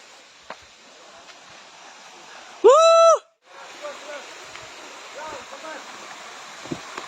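The Tokolangso waterfall rushes with a constant broadband roar of falling water. A brief loud whistle-like tone cuts in near the middle before the steady flow resumes.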